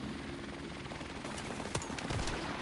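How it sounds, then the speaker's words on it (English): A helicopter in a first-person shooter video game whirs with a steady rotor drone that fills the whole stretch, loud and continuous, with faint game effects layered over it. "The helicopter should be pretty hurt."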